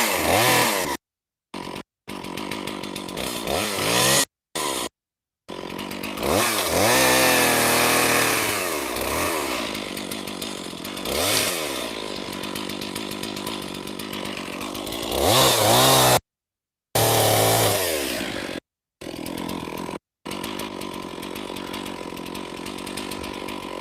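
A long-idle chainsaw bucks logs into firewood lengths out in the woods, its loud engine snarling through repeated cuts, rising and falling in pitch, with brief pauses between cuts.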